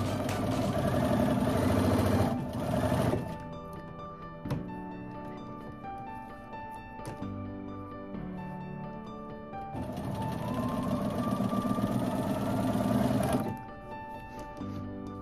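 A sewing machine chain-pieces pairs of quilt fabric squares, running in long, loud, steady whirring bursts with a brief slower stretch between them, close by and without talk.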